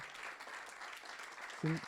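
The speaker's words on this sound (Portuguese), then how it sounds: "Salva de palmas para essas pessoas maravilhosas aqui" Audience at an international symposium on poverty, performance and education applauding in steady, moderately distant clapping, with a short louder bump near the end.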